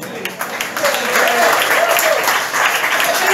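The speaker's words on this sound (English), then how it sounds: "please give applause for Andre Bernal." Loud audience applause at a blues concert in a rock café, sustained crowd clapping mixed with cheering voices and a talking voice over it.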